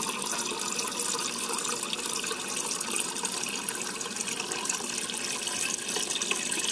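Tap water pours steadily into a coffee cup at a kitchen sink, a continuous close hiss and splash with no talking.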